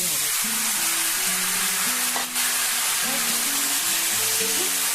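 Okra coated in gram flour batter fries in a hot pan of oil, a continuous loud sizzle with a brief dip, and faint tonal background sounds running underneath.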